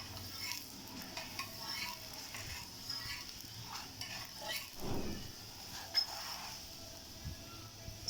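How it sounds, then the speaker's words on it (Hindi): Paratha being brushed with ghee on a hot griddle, a faint low sizzle with scattered light scraping and soft clinks, heard at a distance and quietly. "ये पराठा मैंने इसका ऊपर डाल दिया था, अब उसको मैं घी लगाने लगी हूँ।"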